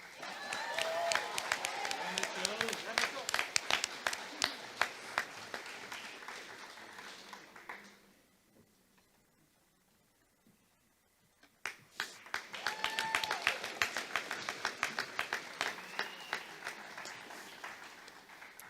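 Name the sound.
graduation ceremony applause for graduate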